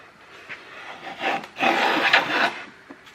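A 100-year-old hand plane shaves wood in a couple of rasping strokes, a short scrape followed by a longer, louder rough stroke, close and without talk.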